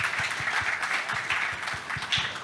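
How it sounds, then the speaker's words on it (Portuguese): An audience at the close of a blockchain conference panel applauds in a steady round of clapping that is moderately loud and close, with individual claps audible in an even rhythm throughout. "Salve de palmas."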